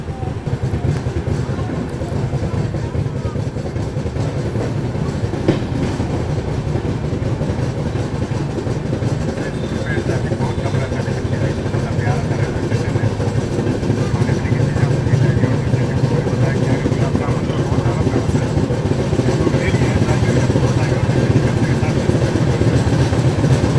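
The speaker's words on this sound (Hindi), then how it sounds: "बाकी गाड़ी अपनी निकल चुकी है उरई रेलवे स्टेशन से" An AC express train pulls out of Urai railway station on a misty evening, giving a steady, dense rumble and rattle of rolling stock that grows slightly louder as it gains speed.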